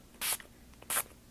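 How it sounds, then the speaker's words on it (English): Marmalade Glimmer Mist is sprayed onto a stencil in two short, sharp hissing bursts from a pump spray bottle, close up and about half a second apart in an otherwise quiet room. "I've got my Marmalade Glimmer Mist spray here, and I'm going to spray it on."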